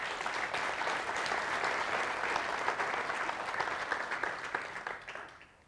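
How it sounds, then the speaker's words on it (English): Audience applause at a workshop on mobile broadband and LTE evolution, a dense sustained clapping from a full room that holds steady for several seconds, then thins out and fades at the end. "So big applause for"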